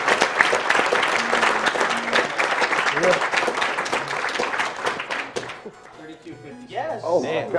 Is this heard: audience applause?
yes